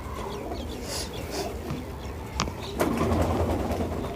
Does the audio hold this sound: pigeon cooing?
yes